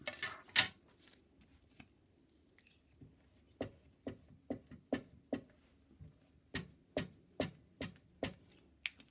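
Scissors snipping paper for journal pockets, a run of crisp close cuts at an uneven, roughly one-per-second rhythm after two louder opening snips and a quiet pause, with no talking.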